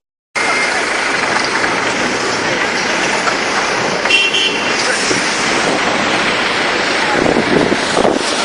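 Bus rumbling along a heavily snowed street, a continuous loud broadband engine and road roar that builds slightly toward the end, close by.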